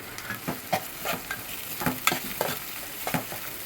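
Onions fry in a pan for a prawn curry with a quiet, steady sizzle. Repeated stirring strokes come in an uneven rhythm every half second or so.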